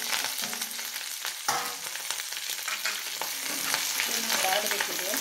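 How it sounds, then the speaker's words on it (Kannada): Ganike (black nightshade) leaves sizzle in about three spoons of hot ghee, a steady broadband frying hiss with a sharp burst partway through as the greens hit the fat, continuous and close with no talk. "ತುಪ್ಪ ಆದಮೇಲೆ ಈ ಸೊಪ್ಪನ್ನು ಹಾಕಿ"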